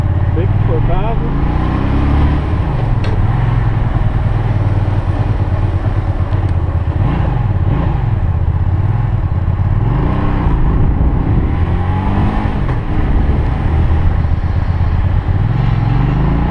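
A Mitsubishi Mirage fitted with Fusca (VW Beetle) tyres drives along with a loud, steady engine drone and road rumble, the pitch rising and falling as it speeds up and slows. People talk over it.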